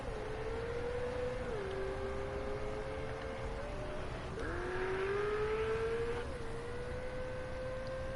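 A race car in a racing video game speeds down the main straight at Monza, its steady high engine whine running throughout with a couple of brief dips at gear shifts, fairly quiet and continuous.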